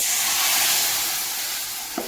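A fried fish curry mixture hitting a hot pan sets off a loud, steady sizzle that fades slightly, with a brief utensil tap near the end.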